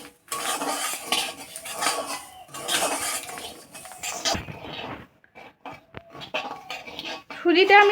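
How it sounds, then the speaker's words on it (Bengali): Semolina being roasted in refined oil in a hot wok, with repeated clinks and scrapes of a metal spoon stirring against the pan, in bursts with short pauses and only faint sizzling. "সুজিটা আমি সামান্য ভেজে নেব যাতে কাঁচা গন্ধটা না থাকে"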